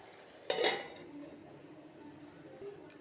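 A lid is set onto a cooking pot with a single brief metallic clank, followed by a faint, quiet kitchen background.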